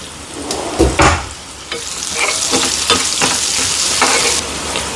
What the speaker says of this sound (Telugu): ఉప్పు వేయటం వల్ల ఉల్లిపాయలు మంచిగా వేగుతాయి